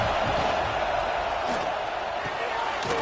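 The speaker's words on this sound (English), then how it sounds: "The Tide crowd rolling noise down on the Saban field on 3rd down" A packed college football stadium crowd roars with a steady, loud wash of noise on third down, continuous throughout without a break.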